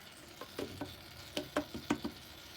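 Used motor oil trickling and filtering through sawdust, a quiet, faint crackling and popping with irregular soft ticks scattered over a low background hiss.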